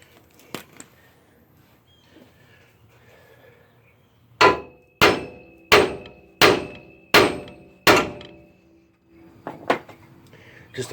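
Six evenly spaced, ringing metal hammer strikes on the front axle parts of a Ford F-150 pickup during IWE actuator replacement, preceded by a few faint taps and followed by lighter knocks.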